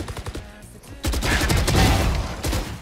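Rapid gunfire in a first-person shooter game, a dense, loud burst of overlapping shots that swells after a short, quieter opening.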